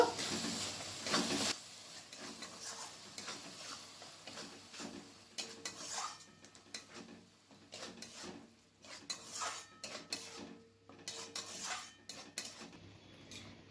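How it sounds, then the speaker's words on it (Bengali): Tomato paste mixed with spices in a pan for a kabuli chana curry, with repeated close scraping and clinking of a spoon against the pan and a light sizzle underneath, in irregular strokes with no talking. "এরপর টমেটো পেস্টটাকে মশলার সাথে ভালো করে মিক্স করে নেব"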